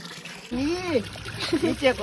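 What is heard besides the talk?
water flowing from a roadside spring spout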